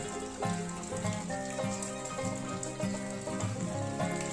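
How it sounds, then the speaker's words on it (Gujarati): Rain falls steadily, a dense pattering wash over a surface, with some low background hum underneath. "વરસાદ ચાલુ છે"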